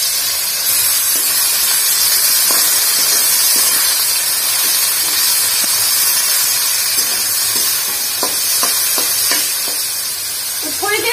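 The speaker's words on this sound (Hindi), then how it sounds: "तो अब हम छोड़ देंगे प्याज को" Onions sizzle steadily in hot oil in a pan while a masala magur fish curry is cooked, a loud continuous hiss filling the whole stretch with occasional stirring clatter near the end.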